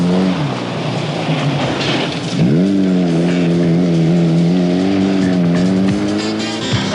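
A rally car in a 1992 Australian Championship round works hard through a corner on a forest road, its engine loud and close, revving up and down with a rising pitch sweep midway and steady high revs after.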